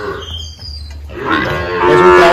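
Heifer calves from embryo-transfer work, born to high-yield dairy cows on a farm in El Salvador, moo loudly and close by, a low call in the first second followed by stronger, rising bellows that fill the rest.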